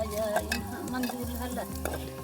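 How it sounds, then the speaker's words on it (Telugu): An onion, green chili and garlic tempering fries in a pan, with close, steady sizzling and the repeated clink and scrape of a spoon stirring in a quick rhythm. "సో చూడండి, తాలింపు అయితే బాగా వేగింది"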